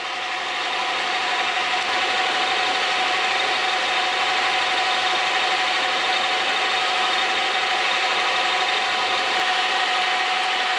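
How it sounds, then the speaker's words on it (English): A lathe fitted with a milling attachment cuts metal under power feed: a steady, continuous motor-and-cutting drone with a faint tonal whine, unbroken and fairly loud for the whole stretch, with no talking. "Cut on the way back this time under power. The way I don't have to crank this thing by hand every time."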